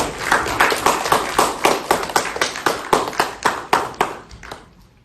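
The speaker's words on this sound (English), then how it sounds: "So a big round of applause for Raja" Scattered, steady hand claps from a small audience after a speech by A. Raja in London, about a dozen and a half close claps in a loose rhythm that thin out and fade by the end.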